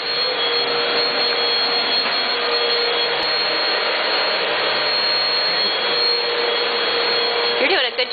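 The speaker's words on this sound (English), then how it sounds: "Are you vacuuming?" A vacuum cleaner runs steadily across a household floor, a loud, continuous whooshing roar that holds for several seconds and briefly shifts pitch at the end; no speech over it.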